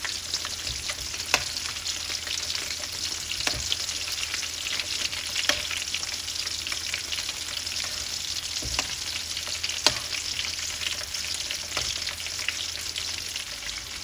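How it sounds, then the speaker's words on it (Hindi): Prawns fry in hot oil in a pan, left untouched, giving a steady, even sizzle throughout with a few faint sharp pops and crackles. "सारे प्रॉन मैंने ऑयल में डाल लिए हैं। अब 4 मिनट से पहले मैं इनको टच नहीं करूँगी"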